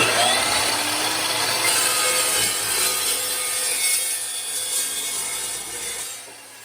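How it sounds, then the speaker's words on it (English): Steady, continuous hand sawing of metal pieces being cut for a brace during a transmission install, a close, rough rasping stroke sound that holds throughout and tapers slightly at the end, with no talking. "If you're working with any metal, piping, cutting, stuff like that, these saws are a must."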